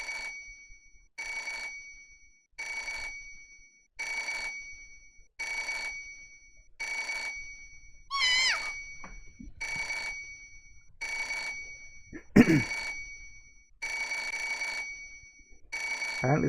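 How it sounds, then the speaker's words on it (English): A telephone rings in the Parasite Eve 2 video game, with steady evenly spaced bursts repeating about every 1.2 seconds, fairly loud and alone, interrupted briefly by a couple of short game sound effects. "Apparently the phone just rings"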